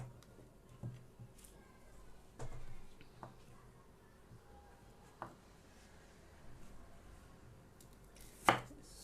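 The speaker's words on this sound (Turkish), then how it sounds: "Ama elle doğrayayım" An onion being chopped by hand with a knife on a board for menemen, scattered sharp knocks spaced irregularly, fairly close but quiet, with a few louder taps.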